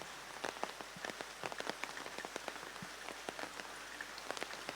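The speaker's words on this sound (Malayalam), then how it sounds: "ഇപ്പോഴും അതേ രീതിയിൽ തന്നെ മഴ തുടരുകയാണ്." Heavy monsoon rain falling in Kannur, Kerala, amid flooding, drops pattering densely and irregularly on a surface as a steady, fairly quiet downpour with no voices.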